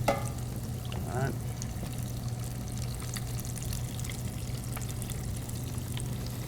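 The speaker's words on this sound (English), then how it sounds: "You want to go ahead and drop it into the grease." Breaded rabbit pieces dropped into hot frying grease, a brief splash and sizzle near the start settling into a steady bubbling fry with a low hum underneath.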